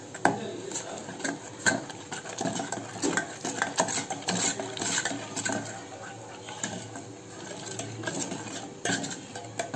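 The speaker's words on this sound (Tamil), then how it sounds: "கட்டி இல்லாமல் நம்ம கொஞ்சம் நல்லா மிக்ஸ் பண்ணிப்போம்." A spoon stirs ragi flour into water in a cup, a continuous busy scraping and light clinking against the cup's sides that runs steadily throughout with small irregular taps.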